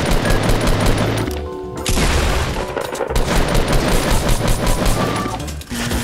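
Gunfire in Fortnite Season 3 Battle Royale: loud, dense bursts of automatic shots and booming impacts fill the whole stretch almost without pause, with only a brief lull partway through.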